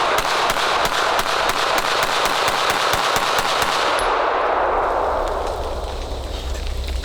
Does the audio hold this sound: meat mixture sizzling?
no